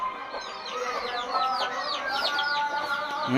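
Several chickens cluck and chatter close by in a steady, busy stream of short calls, with no talking.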